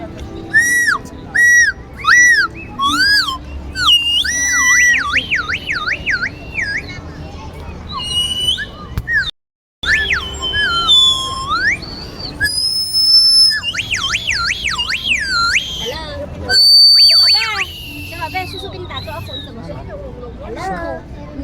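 A street vendor's whistle toy at a fair in Guangzhou, China shrills in rapid warbling, sliding notes, repeated in loud bursts with brief gaps, while people chatter in the background.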